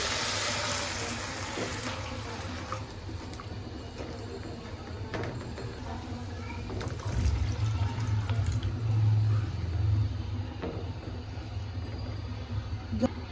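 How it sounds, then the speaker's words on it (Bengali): Water pours steadily into a pan of fried spice paste while curry is being cooked, a continuous watery rush with low gurgling heard close by, gently swelling louder toward the middle. "এবার পরিমাণ মতো জল ঢেলে দিব"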